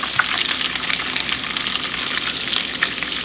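Cheesy keto meatballs fry in a pan with a dense, continuous sizzle and crackle, loud and close, with no voices over it.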